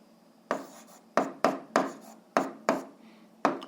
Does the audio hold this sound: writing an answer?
yes